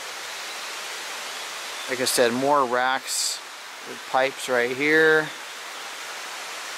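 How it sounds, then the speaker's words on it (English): Creek flowing down a hillside near the Monte Arsiccio mine in Italy makes a steady soft rushing hiss throughout, with someone talking over it in the middle. "There's a creek coming down the hill there."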